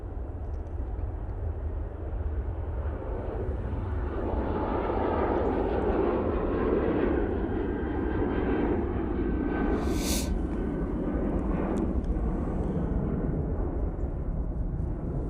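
An airliner departing Manchester Airport for Krakow, its engines a loud, steady, broadband roar that holds throughout with a brief high hiss partway through.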